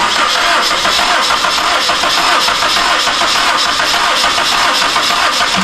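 A car engine cranks over continuously during a compression test on a project car, a steady loud churning starter rhythm with no pause for several seconds.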